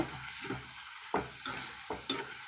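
A ridge gourd curry with chili powder is stirred in a pan, giving four or five distinct scraping strokes in a steady rhythm over a soft, constant sizzle, close and fairly quiet.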